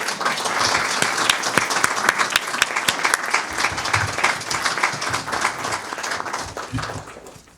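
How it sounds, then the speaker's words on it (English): Audience applause at a scholarship celebration, a dense, sustained burst of clapping from a large room crowd that carries steadily throughout and tapers slightly at the end. "Ladies and gentlemen, please give a great applause to Greg Bush Jr."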